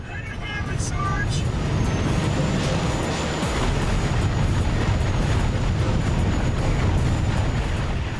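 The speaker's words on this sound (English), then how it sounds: "that high-pitched whine is just obnoxious" A sustained high-pitched whine running steadily over a loud, rumbling roar of engines and blasts during a mission in the game Ratchet & Clank: Up Your Arsenal.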